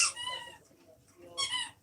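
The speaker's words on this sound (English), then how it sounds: "why did we buy the dog squeak toys?" A dog's squeak toy gives two short, high squeaks, one at the start and one near the end, fairly close in a quiet room.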